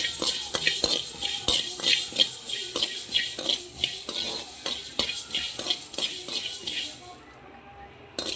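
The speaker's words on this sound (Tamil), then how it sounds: "பொன்னிறமாக கொஞ்சம் மல்லி வறுக்கலாம்" Coriander seeds dry roast in a pan, stirred with a steady rhythm of rattling, scraping strokes that keep a close, busy patter going before fading out near the end.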